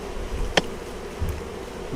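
Honeybees hum softly around an open hive, with a single sharp knock standing out in the middle.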